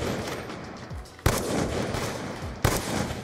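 Two sharp, loud gunshots from the shooter game Black Ops 2 in a one-on-one match, spaced more than a second apart, each with a short decaying tail over steady background game noise.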